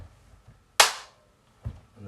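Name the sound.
single hand clap in front of the face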